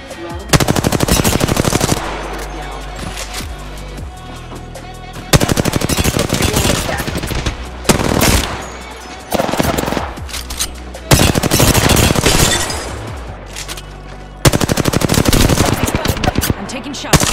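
Rapid automatic gunfire in Apex Legends comes in several long, loud bursts separated by short quieter gaps.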